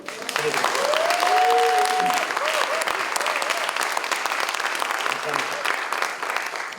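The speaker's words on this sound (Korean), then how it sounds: "우리 오세훈 선생님께 큰 격려 박수 보내드립니다." Audience applause fills a theater during the opening ceremony of the Daehangno Theater QUAD opening festival, a sustained, dense roar of clapping lasting several seconds with faint tonal sounds above it.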